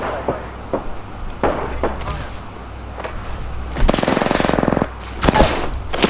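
Gunfire in a shooter game where the Mastiff shotgun is in use: scattered single heavy blasts, then a sustained rapid burst and a couple more loud shots, with players talking over them.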